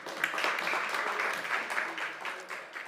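Audience at a Nordic Pavilion panel on just energy transition gives warm, steady applause for a speaker, a dense even patter of many hands lasting the whole moment at moderate volume.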